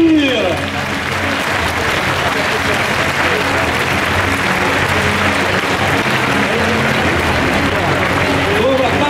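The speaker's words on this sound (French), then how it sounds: "c'est terminé, on peut les applaudir" A live audience at a robot competition applauds loudly and steadily for about nine seconds, with crowd noise and some voices mixed into the clapping.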